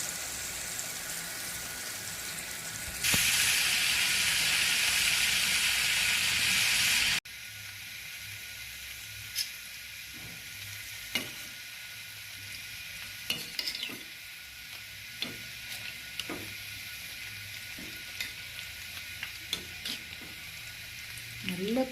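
Banana kamarkattu sweets fry in hot oil with a soft, steady sizzle. A brief louder hissing burst early on is followed by quieter bubbling, broken by scattered small clicks and stirring sounds.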